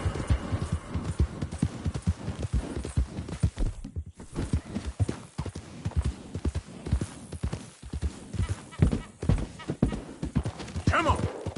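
Horse hooves clip-clop rapidly in a steady galloping rhythm in the video game Red Dead Redemption 2, loud and close throughout, with a brief whinny near the end and a voice heard over the hoofbeats.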